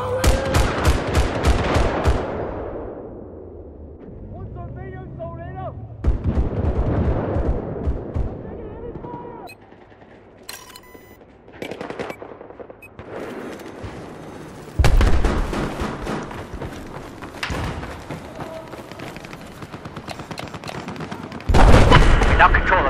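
Heavy gunfire in the Battlefield 4 video game, with loud rapid bursts of machine gun fire, booming blasts and chaotic battle noise under game voice announcements, mixed and dense throughout.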